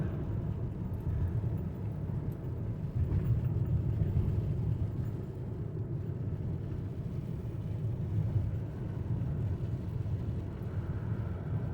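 A Toyota RAV4 Prime rolling on Bridgestone Weatherpeak all-weather tires while changing lanes, a steady low cabin road rumble and tire drone with no talking.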